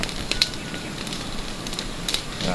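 Fire burning at an outdoor nighttime burning of an effigy, a steady broadband roar with scattered sharp crackles and pops throughout, fairly close and continuous with no talk.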